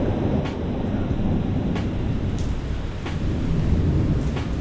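Dense, steady roar of a rushing mountain torrent on the Tour du Mont Blanc fills the whole clip, broad and loud without pause, heard up close.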